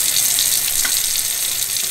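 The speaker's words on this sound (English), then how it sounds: "We need to go open all the faucets in the house, let the water run for about 5 minutes" Household faucets run steadily after a water softener is sanitized, a loud, continuous hiss of flowing water with no talk over it.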